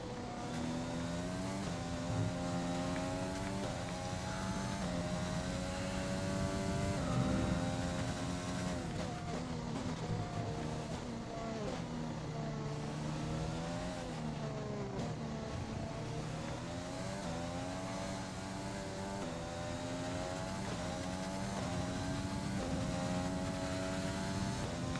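Formula One race cars in a career mode racing game at the French circuit, a steady high engine whine with gear-change pitch sweeps that continues loudly throughout with no pauses.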